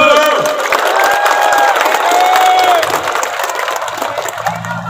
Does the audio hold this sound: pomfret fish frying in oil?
no